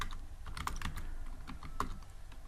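A computer keyboard is typed on while writing Python code, a quick run of soft, close keystroke clicks at an uneven pace, fairly faint, with no talk.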